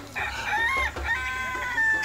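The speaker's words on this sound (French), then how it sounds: "Le coq vient de chuchoter." A rooster crows loudly and close, one long drawn-out cock-a-doodle-doo heard on its own within an animated courtroom scene.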